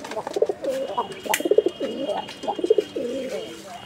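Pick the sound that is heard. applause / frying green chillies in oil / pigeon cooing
pigeon cooing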